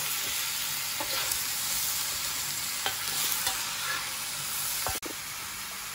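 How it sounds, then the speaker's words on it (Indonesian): Village chicken opor being stirred with spices in a hot pan: a continuous sizzling hiss with scattered clicks and scrapes of the utensil, one sharp knock near the end, no voices. "kita aduk dulu sampai rata sama bumbunya"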